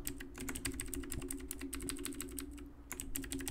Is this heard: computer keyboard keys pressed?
yes